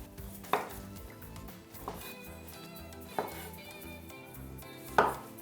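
A knife slices half-cooked vegetables with the skins left on, four sharp, separate cuts hitting a board, close and distinct over a low background hum.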